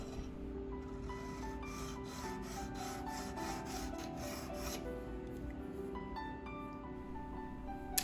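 A woodcarving blade is rubbed in long, even strokes across a sharpening stone, held at a steady angle, giving a close, soft rasping scrape that repeats rhythmically with no talking.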